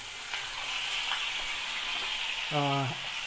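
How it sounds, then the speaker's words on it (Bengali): Gobindobhog rice lightly frying in hot oil gives a steady, close sizzle throughout, with a brief tonal hum near the end. "এবার চালটাকেও তেলের মধ্যে দিয়ে হালকা ভেজে নিন"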